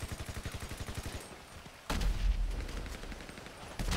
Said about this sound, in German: Oh, der Panzer schießt wieder auf mich.